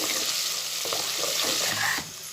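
Garlic pods, tomato and curry leaves sizzle and crackle in hot oil in an Indian kitchen while being stirred, a loud continuous frying hiss with scraping stir sounds, which drops off abruptly near the end.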